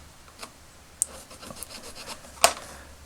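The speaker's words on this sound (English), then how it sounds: "I know I've got a little square needle file here, so I'm just going to file that out a little bit as well." A small square needle file rasps against a plastic part of a vintage Kenner Star Wars Death Star toy in a few short, close, scratchy strokes separated by quiet gaps.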